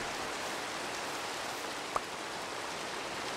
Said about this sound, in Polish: Ludzie, patrzeć, jak pada deszcz.